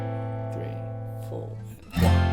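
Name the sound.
guitar strumming each chord once, verse of a song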